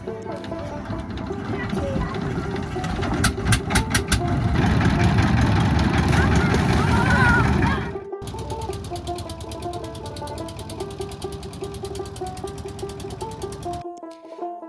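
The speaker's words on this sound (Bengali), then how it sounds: "তারপর আস্তে আস্তে অল্প কিছু মানুষ নিয়েই যাত্রা শুরু করে এই ট্রলার" A trawler boat's engine chugs steadily nearby, louder and rougher for the first few seconds before settling to a lower idling drone, with faint tonal whines and rattles over it.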